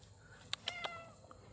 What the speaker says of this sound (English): We're looking at 4 cats right here.